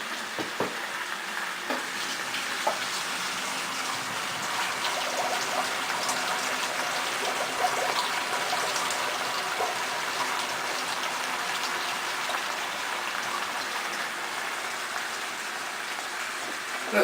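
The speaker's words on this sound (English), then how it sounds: "drain your pasta." Pasta for linguini with clam sauce is drained, its water gushing out in a broad, steady rushing hiss that holds loudly and evenly throughout, close by and without talk.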